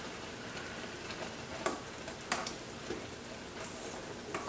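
Teriyaki sauce bubbling toward a boil in a pot on the stove gives a steady, quiet sizzling and popping, with a few sharper bursts standing out from the low simmer.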